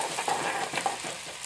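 Onion sautéing in oil in a small, well-used kadhai, a soft steady sizzle with light stirring scrapes over a short stretch, close and moderately quiet.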